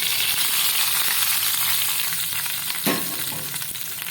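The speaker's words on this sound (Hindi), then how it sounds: "अब हम तड़का डालते हैं।" Tempering spices for Punjabi kadhi pakora sizzle and crackle loudly in hot oil, a continuous bright frying hiss with a brief stirring clatter near the end.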